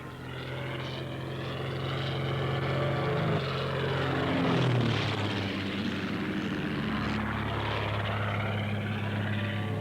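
A propeller aircraft drones steadily overhead, its engine hum swelling slightly in the middle before settling back, loud and continuous with no voices.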